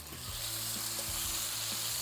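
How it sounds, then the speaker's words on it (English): Steak reverse-searing in oil in a super hot pan: a loud, close, steady sizzle with crackling pops throughout, no voices. "We're gonna take and put our steak in it now to reverse sear it."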